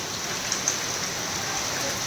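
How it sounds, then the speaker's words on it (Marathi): Heavy torrential afternoon rain on a farm pours down as a dense, steady hiss with no breaks. "हा मुसळधार पाणी चालू आहे मित्रांनो मुसळधार"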